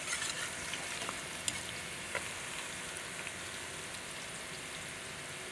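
Okra (bhindi) frying in a pan, with a steady, continuous sizzle and a few soft stirring clicks throughout and no talking.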